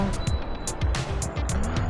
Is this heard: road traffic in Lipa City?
yes